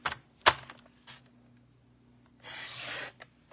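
A sharp snap, then a brief rasping slide of a paper trimmer blade cutting through cardstock, quiet with small clicks around it.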